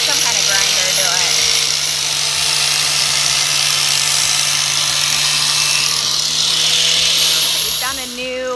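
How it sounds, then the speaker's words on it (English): A handheld grinder bevels the edge of Hydro Turf foam decking, a steady high-pitched whine running loud and continuous throughout, shifting in pitch near the end, with talk over the tool. "to give it a nice like beveled edge, taking some kind of grinder to it"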